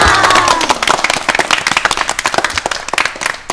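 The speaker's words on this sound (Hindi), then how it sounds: "तो एक बार नन्ही दुनिया के लिए क्या हो जाए वापस से तालियां" An audience at a children's environmental-awareness program bursts into applause, dense at first and then breaking into loud, uneven individual claps close by that gradually thin out.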